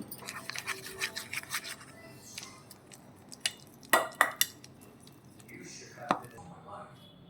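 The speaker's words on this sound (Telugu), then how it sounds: "ఇదంతా మంచి మిక్స్ చేసుకోవాలి" Mutton bone soup ingredients with salt and chili are stirred and mixed in a pot, giving scraping and clinking utensil sounds in irregular bursts, close and fairly quiet, with some talking.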